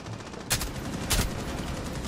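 Two sharp gunshots in a first-person shooter video game, about half a second apart, sounding moderately loud over a steady background hum of game ambience.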